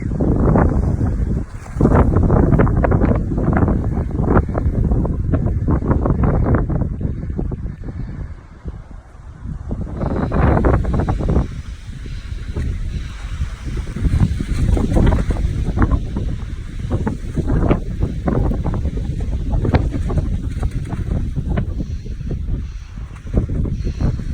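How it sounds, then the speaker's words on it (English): Strong wind buffets the microphone at a campsite beside a six-person instant tent, a loud continuous roar with gusting surges that never lets up, and nobody speaks. "And the wind is so strong that it snapped the tree."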